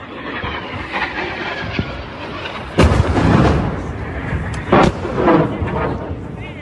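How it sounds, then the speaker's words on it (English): Anti-air missiles exploding in the sky above the harbour at Sevastopol, heard as two sharp distant booms rolling over a steady background rumble with a voice talking faintly. "the anti-air missiles are exploding in the sky"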